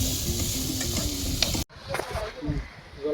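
Chicken meat frying and being stirred in a pan for a home picnic meal, a loud steady sizzle with scraping stirs, then a sudden break followed by quieter, uneven frying and clatter.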